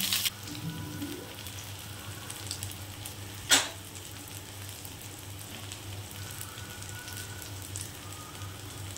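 Coconut and poppy seed fritters fry in a frying pan with a steady, close hissing sizzle, one sharp clack partway through, and no talking.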